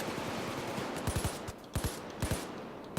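Falcon rifle gunfire in Payday 2: quick, fairly quiet bursts of clipped shots, a few in a row, then pauses and more short volleys.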